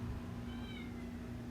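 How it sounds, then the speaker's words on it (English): A cat, playing alongside a dog somewhere in the room, gives a faint, distant meow that sits low under a steady background hum. "my dog and cat are playing in the background while I'm doing this voiceover"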